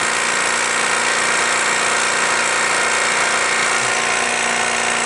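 A refrigerant reclaimer pumps down with a loud, steady motor drone and a rattling vibration that stays constant through the whole stretch, with no voices.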